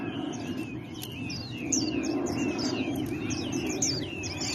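Small birds chirp and tweet repeatedly in quick bright bursts over a steady outdoor background hum, fairly close and clear.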